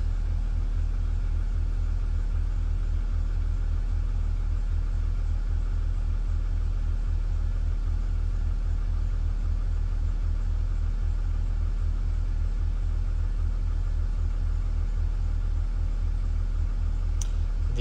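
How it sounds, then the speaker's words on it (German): A Mercedes E350 CDI diesel car engine idles steadily, a low, even rumble with a constant throb lasting throughout, close and unchanging. "Motor ist an."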